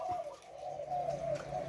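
Spotted doves coo softly in a dove keeper's aviary, a steady low, mellow call held through the moment with faint background noise.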